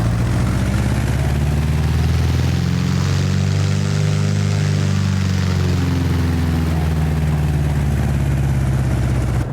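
Piper PA-28R single-engine propeller plane in a flight simulator, taxiing with a steady low droning engine hum and propeller buzz that rises slightly as power is added, heard alone and up close.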